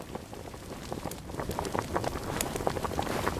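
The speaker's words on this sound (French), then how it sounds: "J'entends les bruits de pas." Quick irregular footsteps of a creature stalking nearby, sharp scattered impacts over a steady noisy background, fairly close and moderately loud.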